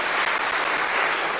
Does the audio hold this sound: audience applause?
yes